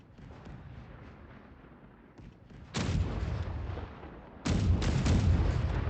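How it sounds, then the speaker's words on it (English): Cannon turrets fire in a video game: two heavy, booming salvos a couple of seconds apart cut through a quieter rumbling background, each blast sustained and loud. "So you're emptying out your cannon turrets."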